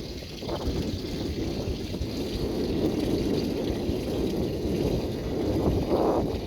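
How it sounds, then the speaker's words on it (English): Steady wind buffets the microphone aboard a 2007 Sea Ray 44 Sedan Bridge boat at Wrightsville Beach, North Carolina, with a low, rumbling rush that swells slightly, and faint water sounds underneath. "It's a little windy here."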